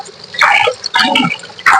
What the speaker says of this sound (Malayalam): ചിക്കൻ നന്നായിട്ട് കഴുകി എടുക്കണം കേട്ടോ